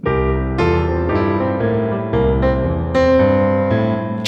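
Piano chord fill with rhythmic patterns, full sustained chords struck in a steady syncopated sequence, loud and close with no talking.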